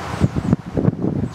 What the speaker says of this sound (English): Right now it's about as windy as it seems to get around here.